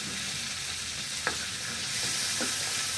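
Tomato and pork sauté in a pan with a constant sizzle, while a utensil gives a few sharp scrapes and knocks against the pan as the food is stirred.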